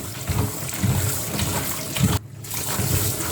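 Nawasa Falls waterfall rushing steadily, a broad continuous wash of falling water with low rumbling surges, interrupted briefly near the end by a short dip before resuming.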